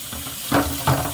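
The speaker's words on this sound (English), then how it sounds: "this is hot water coming out of here" Hot water runs from a kitchen tap into a sink, a steady hiss with two brief louder surges of splashing, close by and without voices.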